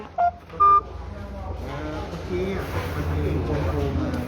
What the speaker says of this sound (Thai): กรุณาฝากข้อความหลังได้ยินเสียงสัญญาณ